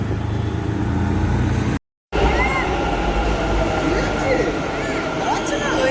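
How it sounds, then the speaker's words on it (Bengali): A metro train pulls into a station with a steady, loud rolling rumble and rail roar that drops out briefly and then resumes, while people talk over it. "যে মেট্রো চলে এসেছে চলো আমরা মেট্রোতে উঠে পড়ি"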